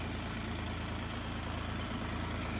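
A new tractor engine idles steadily close by, a continuous low throbbing hum with a regular pulse and no break, running alone during field trials with a rotary tiller.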